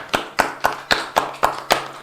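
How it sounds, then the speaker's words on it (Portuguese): Seven crisp, evenly spaced claps welcome guest Ricardo Lorenzoni, sounding like a single person or very few hands clapping in a steady rhythm close to the microphone, with no talking. "Vamos dar a boa-vinda para ele e uma salva de palmas"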